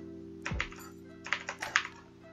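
Computer keyboard typing: a few scattered key presses, then a quick burst of four or five clicks close to the microphone over a low steady hum.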